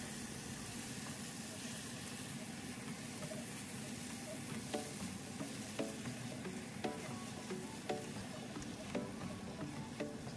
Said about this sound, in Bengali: করলাগুলোকে আমি 4-5 মিনিট পরে নেড়ে দিচ্ছি।